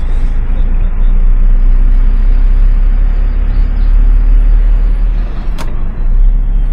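Car driving along a newly built road in Morocco, a steady loud rumble of engine and tyre noise with wind buffeting, continuous throughout with one brief sharp click near the end.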